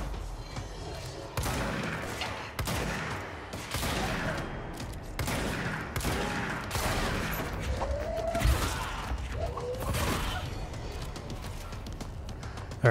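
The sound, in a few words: shotgun gunfire in the video game Control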